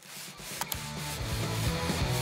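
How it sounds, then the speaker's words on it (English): Sandpaper rubbing over hammered-down bamboo nodes, a steady close scratchy abrasion that starts after a brief hush and carries on continuously, with no talking. "Sanding down the hammered out nodes is very important if you don't want splinters in your noodles."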